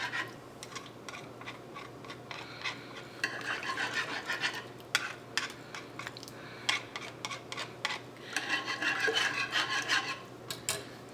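A spoon stirs chicken broth and roux in a pot for cream of mushroom soup, with repeated scraping and swirling strokes that come in uneven bursts, close and fairly quiet, with no talking.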